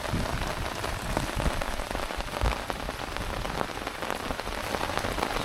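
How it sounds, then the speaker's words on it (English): Heavy rain drumming on a tent while camping in the jungle, a dense, loud, continuous patter close overhead with no voices. "This rain is dreadful."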